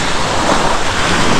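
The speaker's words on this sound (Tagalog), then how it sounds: "Habang inaabot ka ng alon" Sea waves wash onto a beach shore in a loud, continuous roar of surf mixed with wind buffeting the microphone, steady with no speech over it.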